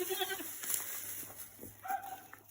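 A goat handled during a livestock demonstration bleats faintly in short bursts amid soft shuffling and handling noises, with low background hum.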